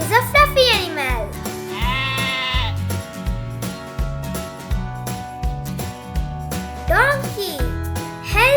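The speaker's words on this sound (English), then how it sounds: "Sheep is a fluffy animal." Farm sheep bleating in several wavering calls, one at the start, a long one shortly after, and another near the end, all set against a cheerful, rhythmic background music track.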